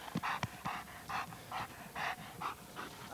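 A young police K9 dog pants rapidly and rhythmically up close, with short quick breaths repeating in an even series and a couple of sharper catches at the start.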